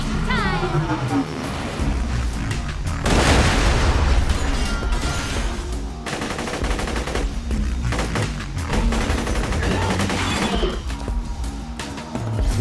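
Grenade blast in the Borderlands video game, a loud booming burst amid steady gunfire and shooting game effects, with a voice talking over the busy combat sound.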